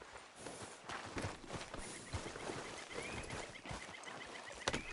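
Horse hooves clip-clop at a steady walk in Red Dead Redemption 2, a quiet rhythmic series of close hoof strikes over a soft outdoor ambience.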